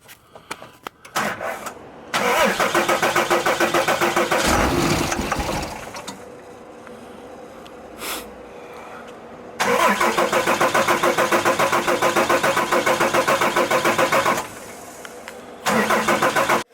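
A 3rd-generation truck engine with a freshly rebuilt turbo cranks, catches and runs loud and close, dies and restarts across several attempts, with a steady rumbling idle between bursts and no talk.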